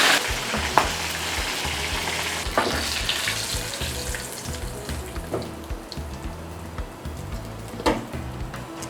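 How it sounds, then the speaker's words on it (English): Meat fries in oil in a pan, giving a steady sizzle with occasional stirring clatter and a few sharp pops and knocks, close and moderately loud, with no talking. "I have to go and fry the meat. Use my oil."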